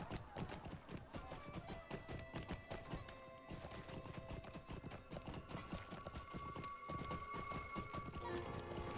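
Steady hoofbeats of a horse being ridden in the online game Lord of the Rings Online (LOTRO), a dense continuous clip-clop rhythm with whinnies over a busy game soundscape.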